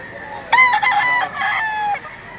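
A Golden Boy cross Pumpkin rooster crows once, close and loud, a ragged two-second cock-a-doodle-doo with no talking.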